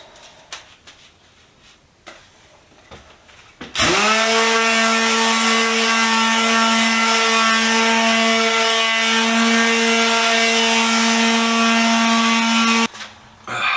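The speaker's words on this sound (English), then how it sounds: "Start sanding." A power sander starts up and runs on a mid-century modern wooden coffee table, removing old polyurethane, with a loud, steady motor whine and abrasive rasp for about nine seconds, then cuts off abruptly.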